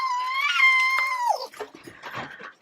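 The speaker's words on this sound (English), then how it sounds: "I'm sure you can hear my dogs running around" Excited pet dogs whimper and howl nearby in a long, rising then falling whine, followed by shorter yips and scuffling, with no talking.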